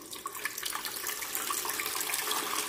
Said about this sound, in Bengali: আগে জলটা দিয়ে দিচ্ছি